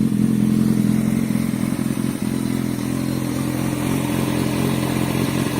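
A 2005 Kawasaki ZX6R 636 motorcycle engine idling steadily nearby, a dense, even mechanical rumble with slight clatter and no revving.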